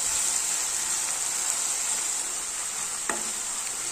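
Ginger-garlic paste and spices stir-fried in a pan over medium-low heat for a fish dish, giving a steady close sizzle with one brief scrape of the spoon near the end.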